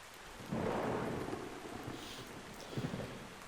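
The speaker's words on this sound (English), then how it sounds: "nothing more sorrowful than the sound of rain on leaves" Steady rain hisses and patters on leaves while low thunder rumbles through, swelling early and again near the end.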